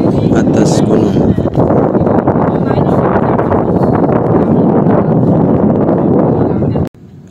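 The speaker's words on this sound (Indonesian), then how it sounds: "anginnya berasa bertiup dengan kencang, seperti berada di atas gunung" Strong wind buffets the microphone on a high hill at a waste processing site, a loud continuous roaring rumble with gusty swells that cuts off abruptly near the end.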